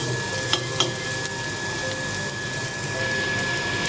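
Peanuts fry in hot oil in a pan while cooking water spinach, giving a steady close sizzle with a few sharp crackles and pops early on.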